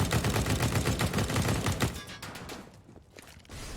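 Rapid automatic gunfire in Counter-Strike: Global Offensive on the Dust 2 map, a fast loud burst of shots for about two seconds, then fading to quieter scattered noise.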